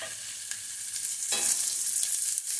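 Steak sears in a hot pan just after being flipped, giving a loud, steady, close sizzle and crackle of fat with a few sharper spits, with no voices.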